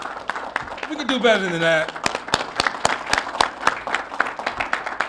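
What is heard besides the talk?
audience applause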